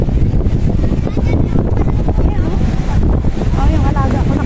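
Strong wind buffets the microphone at a beach resort, a loud continuous rumbling roar with gusty swells throughout, and faint voices may be mixed in beneath it.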